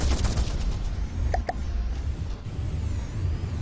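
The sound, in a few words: missiles and gunfire in video game From the Depths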